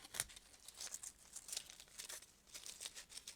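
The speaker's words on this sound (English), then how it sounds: "Now I'm going to run my tape vertically, and that is where the squares will begin to form." Adhesive tape is torn and pressed onto a Dollar Tree charger plate in short, crinkly bursts, close and fairly quiet, with irregular gaps between pulls.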